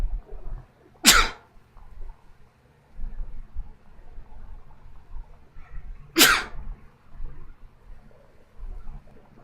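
Two sharp sneezes, several seconds apart, over a low hum of background noise; nothing else stands out.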